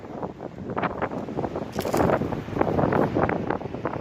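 Wind gusts buffet the microphone at a riverside trout-fishing spot on a March opening day, a rough, blustery roar rising and falling in close, uneven surges.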